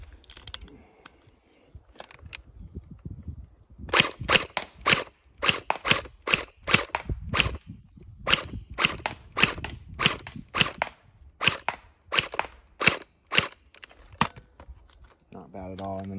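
A gel blaster toy gun fires gel balls in a rapid run of sharp, loud snapping shots, close up, some in quick bursts, with quieter handling sounds before and after.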